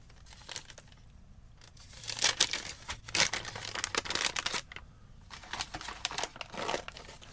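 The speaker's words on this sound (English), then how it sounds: "so I'm just going to cut this completely open" Scissors cut open a drink powder packet from an MRE, giving close, irregular bursts of crinkling and tearing plastic foil with brief pauses between cuts, with no talk.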